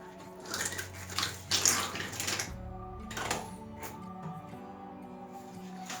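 Tap water running from a faucet as hands are washed at a sink, a steady close wash with splashy bursts in the first seconds, then a softer continuous flow.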